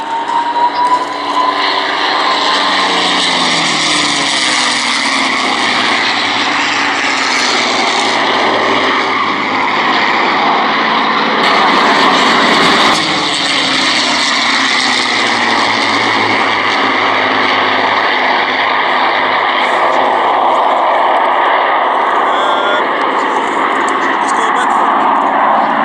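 A P-51 propeller fighter flies at the Duxford air show, a loud sustained engine roar that swells and shifts in pitch as it passes, under continuous commentary from a public-address announcer.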